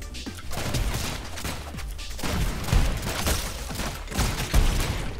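Dense, continuous gunfire from the video game ROUNDS, a loud volley of rapid overlapping shots and impact crashes filling the whole stretch, with no voices.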